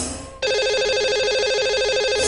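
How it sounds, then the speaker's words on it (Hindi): A telephone rings with a steady warbling electronic tone as a radio show dials a lucky caller, loud and continuous after a brief quiet start. "लगाएंगे इन्हें कॉल और करते हैं इनसे बात।"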